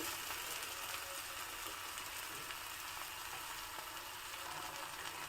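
Ground masala paste tipped into a pan of fried brinjal, tomato and onion, giving a steady, fairly quiet hiss of frying that keeps up without a break and with no talking.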